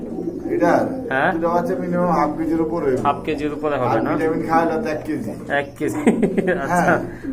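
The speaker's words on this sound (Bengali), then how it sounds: "আপনারা এক জোড়া বাগদাদি কবুতর পেয়ে যাচ্ছে" A pair of Baghdadi pigeons coo close by at a pigeon seller's, with soft throaty calls that repeat throughout while people talk over them.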